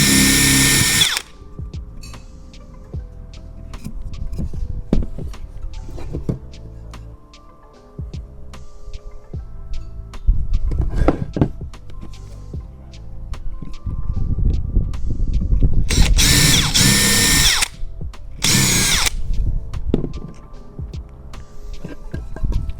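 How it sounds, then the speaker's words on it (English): A power drill pre-drills two holes in a wooden coffee table leg, with sharp loud whirring bursts at the start and near the end, separated by a long stretch of lower throbbing motor hum and handling clicks. "I'm going to pre-drill 2 holes."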